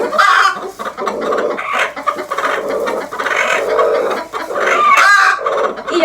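Chickens, including broody hens with their young chicks, cluck and chatter close by in a busy, continuous flock murmur, with sharper calls standing out now and then and no speech.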